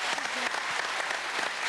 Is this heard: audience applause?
yes